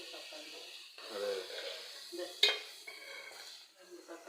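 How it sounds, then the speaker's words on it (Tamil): Onion and tomato sautéing in a pan for a home-style fish curry, with soft stirring scrapes and faint sizzle, a utensil clink near the middle, steady and close. "போட்டு வதக்கிங்க. பாருங்க, நம்ம வதக்கிட்டு இருக்கோம்."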